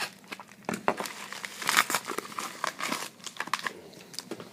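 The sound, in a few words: handling and crinkling mail envelopes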